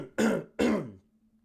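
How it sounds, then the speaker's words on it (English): Two sharp, close throat-clearing coughs in quick succession, each a harsh rasping burst, followed by a faint low hum. "Can't stop coughing."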